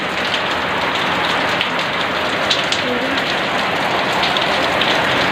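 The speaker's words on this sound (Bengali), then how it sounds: "দেখো কত জোরে বৃষ্টি পড়ছে" Heavy rain pours down steadily in a Bengali home setting, a dense, continuous hiss of drops hitting surfaces, loud and close with no pauses.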